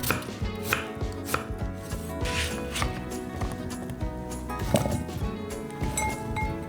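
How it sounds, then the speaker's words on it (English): Knife chopping peeled potatoes into smaller pieces on a board for homemade IKEA-style meatballs, a steady run of close, crisp cuts over background music, with no talking. "Now we cut the peeled potatoes in smaller pieces."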